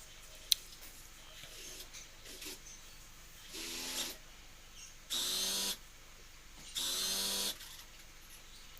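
Sewing machine stitching around the edges of paired fabric body pieces with a half to one centimetre seam allowance, heard as two or three short, steady whirring bursts separated by quiet pauses.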